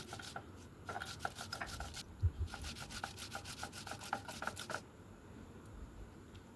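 Black mustard seed, poppy seed, green chilli and garlic being ground into a fine paste, a rhythmic series of gritty rubbing strokes against stone, fairly quiet and close, with a faint constant high whine in the background.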